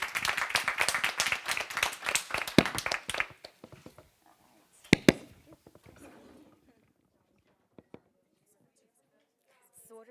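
Brief burst of clapping from a small audience at the close of a EuroDIG 2016 internet governance workshop, fading after about three seconds into scattered claps, faint murmurs and quiet room noise.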